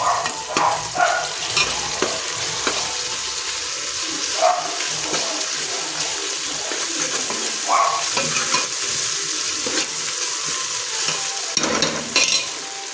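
Ginger and garlic frying in a pan for chicken biryani, a steady close sizzle with scattered stirring scrapes and clinks over a watery hiss, running for about thirteen seconds with no talk.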